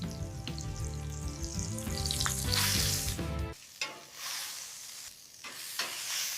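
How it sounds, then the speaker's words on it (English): Pork chops pan-searing in hot butter, basted as the pan is tilted, give a steady close sizzle and crackle, with music over the first half and a few clatters of utensil against pan. "Tilt the pan and baste with that hot butter."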